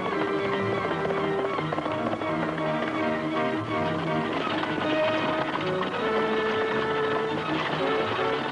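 Horse hooves clip-clopping steadily at a moderate pace alongside a music score, with no talk.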